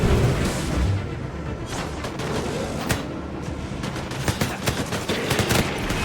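Heavy gunfire in the shooter Disintegration, rapid bursts and sharp shots crackling with booming impacts, dense and continuous, close and far together.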